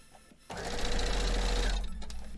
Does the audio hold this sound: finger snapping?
no